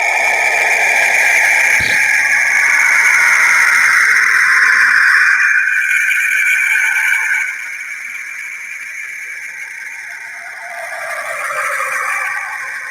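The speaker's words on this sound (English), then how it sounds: "That's the sound of Saturn." A space recording of the planet Saturn: an eerie, droning hum with sustained wavering tones and a faint whistling shimmer, steady for several seconds before dropping quieter and swelling slightly again.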